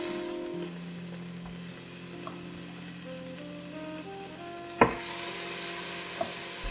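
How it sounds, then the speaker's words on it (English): Quiet sizzle of steak pieces frying in oil in a pot, with steady tones in the background, interrupted by a sharp clank of metal and a couple of lighter taps. "When your steak pieces are sizzling"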